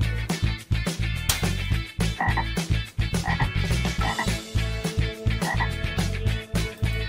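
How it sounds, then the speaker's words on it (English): A green frog croaks over and over in a fast, loud, rhythmic series of rough pulses that fill the whole stretch, alone and close up. "Green Frog."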